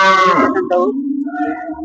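Cattle low loudly and close by at a livestock market in Davanagere, one long drawn-out moo followed by a second, deeper bellow, with no talking.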